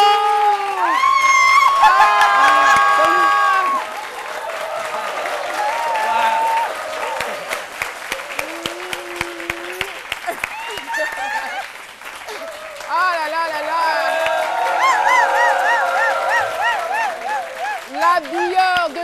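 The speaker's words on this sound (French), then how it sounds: "On va donc applaudir pour lui." Studio audience on an Ivorian midday TV show applauds and cheers for a stylist, a sustained wash of clapping with whoops and shouts, swelling and dipping over about nineteen seconds.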